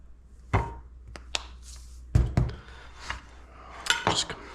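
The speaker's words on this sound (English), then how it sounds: "Just mix to combine." A utensil clatters and scrapes in a bowl while seasoned ingredients with cumin, chili powder and MSG are mixed, a series of irregular knocks and clinks, some louder, with scraping between them.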